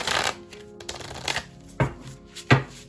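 Tarot cards shuffled hand over hand, giving soft papery slides and a few sharper flicks and taps, close and clear, with no speech.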